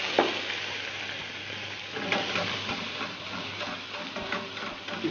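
Sugar melts and caramelizes in a hot pan with calamari, a soft continuous sizzle with faint bubbling and a few small pops, no talking.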